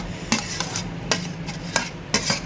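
Minced chicken keema tipped into a hot pan for biryani and stirred, with repeated scraping strokes of a utensil against the metal over a low steady sizzle, close and fairly loud, no voices.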